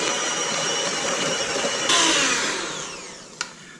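An electric stand mixer whirs steadily while flour goes into cookie dough, a loud continuous motor drone that shifts pitch partway, then gradually eases, with a single sharp clank near the end.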